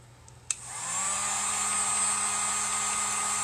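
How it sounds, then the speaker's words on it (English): A hair dryer switches on after a click and runs as a steady, loud whirring blow to dry paint on a letter F for a grass-skirt door hanger, holding an even drone throughout. "I'm going to have to dry the F."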